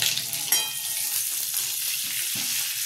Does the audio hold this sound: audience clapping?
no